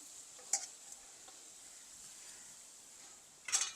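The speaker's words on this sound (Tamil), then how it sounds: "சேர்த்து நல்லா மிக்ஸ் பண்ணுறேன்" A spoon stirs grated coconut through vegetables frying in a pan over a soft, steady sizzle, with two brief scraping clinks against the pan.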